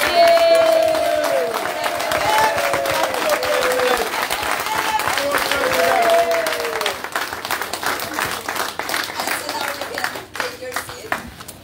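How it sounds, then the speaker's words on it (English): Applause from a crowd at a president's meeting with residents in Guyana's Region 6, loud and sustained clapping that runs for several seconds and then thins out. A few shouts and cheers rise over it. "we want to give you a loud thank you applause."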